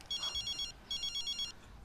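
A mobile phone rings at a family dinner table with two close, clear bursts of repeating electronic ringtone separated by a short pause.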